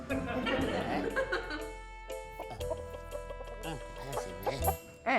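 A chicken clucks and squawks in short bursts nearby, with a low hum underneath and some sharp clicks.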